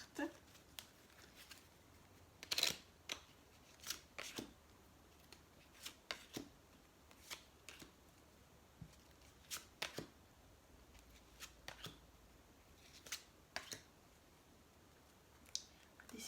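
Tarot cards being shuffled in a quiet room, a steady series of crisp riffling and snapping bursts spread irregularly throughout, close but faint, with no talk.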